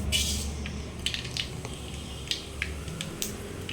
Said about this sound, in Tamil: எண்ணெய் சூடாயிருச்சு. கடுகு கொஞ்சம் போட்டுக்கலாம்